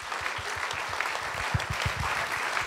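An audience at a Slovak talk show claps in steady rhythmic unison, beating out a regular tempo of sharp claps under a diffuse wash of scattered applause, fairly quiet and without voices.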